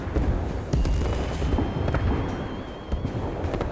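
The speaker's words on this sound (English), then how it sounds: "The roar of cannons echoes throughout this space." Cannon fire roars through a VRChat roleplay scene, a dense, sustained rumble of booms with sharp blasts standing out, loud and continuous with no voices.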